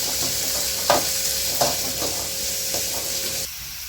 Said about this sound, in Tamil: ஒரு 5-6 பல்லு பூண்டுங்க, ஒரு துண்டு இஞ்சிங்க எல்லாம் ஒட்டுக்கா போட்டு வறுத்துக்கலாம்